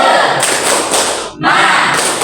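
A group of students in an Indonesian classroom claps together in a rhythmic spirit cheer, tepuk semangat, with dense bursts of hand claps separated by a brief pause, loud and close.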